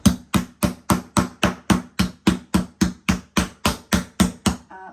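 Meat being tenderized with a heavy hammer while preparing wedding catering food, about fifteen loud, sharp thuds in a steady, even rhythm, close up and with no talking.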